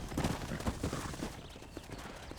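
Horse hooves clip-clop in a steady, fairly close rhythm in the Red Dead Redemption video game, the beats loudest early and then settling into a softer, even trot without talk over them.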